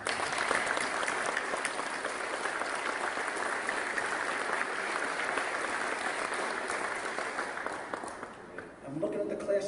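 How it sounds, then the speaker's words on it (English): Sustained audience applause fills a hall at a military retirement ceremony, honoring families. It is dense, steady and fairly distant, then thins out and fades near the end. "let's please give a warm round of applause for our families"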